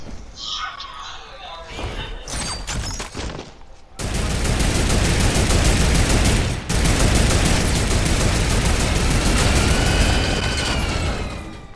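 Sustained, rapid turret gunfire in a video game, loud and dense, following a quieter stretch of scattered shots and game noise, with a brief break partway through.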